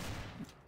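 Rapid gunfire from the video game Counter-Strike: Source, a short, loud burst of repeated shots that fades slightly toward the end.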